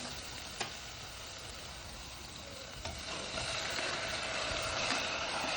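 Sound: sautéing food in a pan

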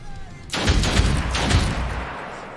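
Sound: gunshot in the video game Othercide

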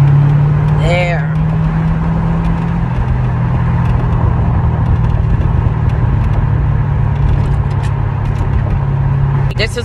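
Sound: Chevrolet Corvette C6 6.2 liter supercharged LS3 V8 engine

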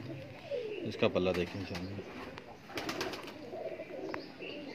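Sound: pigeons cooing

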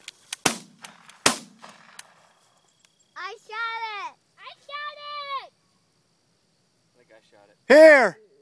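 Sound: gunshot while hunting chukar birds

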